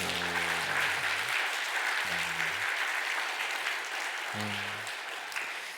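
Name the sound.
church congregation applauding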